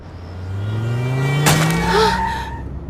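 A car speeding on a rain-wet road, a loud close engine roar rising into a sharp tire skid and screech midway, then fading off.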